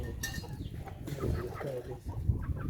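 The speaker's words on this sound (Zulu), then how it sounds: "Lesi siba senkukhu zamakhaya. Inkukhu zamakhazi la." Village chickens cluck softly in a coop, a few faint, scattered calls over low background rustle with no talking.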